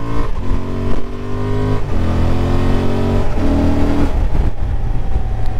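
A 2024 Honda XL750 Transalp motorcycle with its stock exhaust pulls hard under acceleration with a quickshifter, engine note rising and dropping through quick gear changes, loud and close throughout with no talk.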